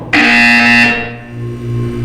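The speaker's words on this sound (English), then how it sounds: "You will hear a buzzer." A loud, steady electronic buzzer from the video game Portal 2 sounds alone, holding for about a second before dropping to a quieter, lower tone that lingers.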